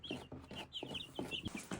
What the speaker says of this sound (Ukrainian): Дуже гарні кури.